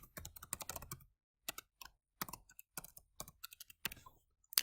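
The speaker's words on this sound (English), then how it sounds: "type in their email" Fingers type on a computer keyboard, entering an email address to sign in: irregular bursts of close, crisp keystroke clicks with brief pauses between runs and no voices.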